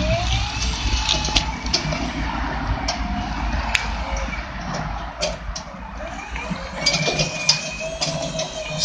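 A 2004 Snorkel S1930 scissor lift with a new control box runs and drives, giving a steady electric motor whine and hum with scattered clicks and clunks throughout, moderately loud and close.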